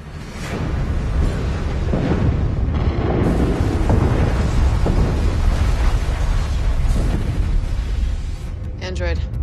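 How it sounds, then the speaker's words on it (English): Explosions rip across orbiting Ishida cruisers in the sci-fi series Dark Matter, a dense, continuous rumbling roar of blasts and booms, loud and sustained, with voices speaking partly over it. "I'm picking up explosions on the orbiting Ishida cruisers."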